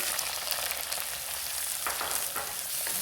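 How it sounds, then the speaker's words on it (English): Onion tipped into a pan of frying green chilies and curry leaves for a salmon fish curry, a loud, dense sizzle that flares briefly with a couple of stirring scrapes. "Then immediately add the onion."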